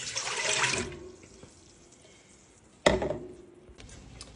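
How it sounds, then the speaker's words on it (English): Honeysuckle tea poured from a container into a cooking pot for a batch of jelly, a splashing liquid pour at the start, then a quieter stretch before a second sharp burst of pouring and clatter. "So I'm now going to pour my honeysuckle tea into my pot."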